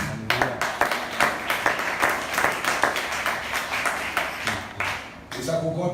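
Church congregation applauding together in praise, a steady wash of many hands clapping with sharp rhythmic bursts filling the room, fading slightly near the end.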